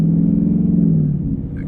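Ford S550 Mustang GT V8 in normal mode accelerating, a loud steady low engine drone that holds strong and eases slightly toward the end, heard close from inside the car.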